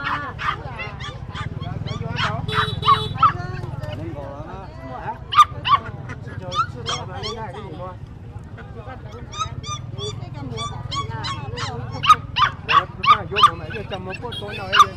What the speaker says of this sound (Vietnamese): mời em chó trắng đốm nhé các bạn nhé